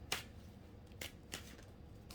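Tarot cards are shuffled in short, faint riffling bursts, four quick swishes spread over a couple of seconds in an otherwise quiet room.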